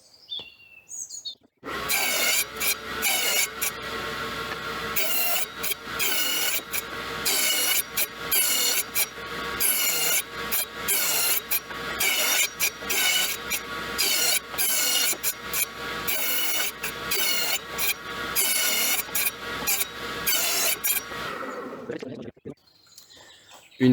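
A stationary saw cuts grooves in unplaned wooden boards for a Dadant six-frame beehive feeder, a loud, sustained whine with rapid rhythmic pulses for about twenty seconds before spinning down and stopping.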